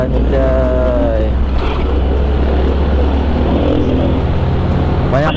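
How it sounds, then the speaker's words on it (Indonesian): Big cars and trucks pass along a busy road, heard from a motorbike as a loud, constant rumble of traffic, with a horn-like tonal blare at the start and end. "Banyak mobil gede ya?"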